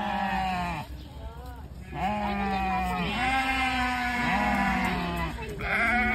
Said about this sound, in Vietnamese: Cừu đen à?